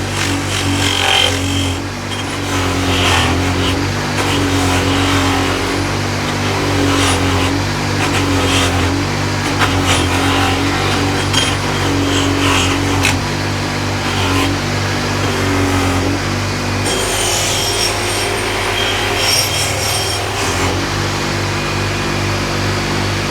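An old rusty Snail Brand spanner is buffed on a Scotch wheel, a loud steady motorised whir with a constant hum and gritty abrasive rubbing running throughout, shifting slightly in tone near the end.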